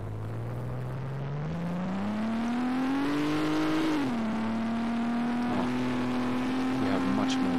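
An ACF-built car engine in Garry's Mod revs steadily upward, a smooth rising whine that climbs, drops briefly as it shifts, then holds a sustained buzzing tone; close and loud, with a voice faintly underneath.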